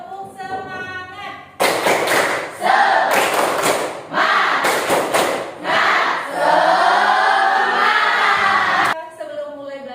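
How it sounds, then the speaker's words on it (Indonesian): A classroom of pupils performs a rhythmic spirit clapping chant together, bursts of loud group claps and voices following a teacher's spoken prompt, repeated in several energetic rounds before falling back to quiet talk. "Semuanya tepuk semangat. Tepuk semangat."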